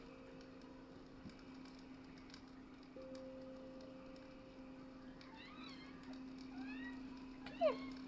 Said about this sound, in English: Sorry, he's meowing.